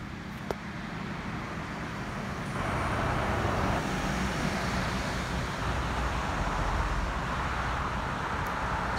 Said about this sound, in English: School bus, yellow school bus,